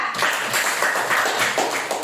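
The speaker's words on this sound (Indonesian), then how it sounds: "Oke, tepuk tangan untuk Amelia" Classroom of students clapping for a classmate, a steady broadband patter of many hands lasting about two seconds at moderate loudness, with no talk over it.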